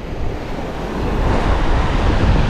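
Ocean waves at high tide on Ponta de Mangue beach in Maragogi, Alagoas, a loud continuous wash of surf that swells slightly, with wind buffeting the microphone and no talk.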